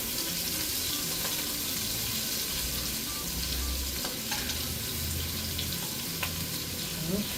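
Shrimp frying in a small amount of oil in a pan make a continuous crackling sizzle with scattered sharper pops, fairly close and steady throughout. Low clattering from stirring runs underneath.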